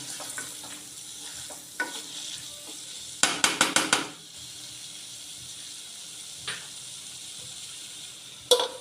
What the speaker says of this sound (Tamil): இதையும் போட்டு நல்லா வதக்கி நல்லா கிளறி விட்டு நல்லா கொஞ்சம் வெந்து வரணும்.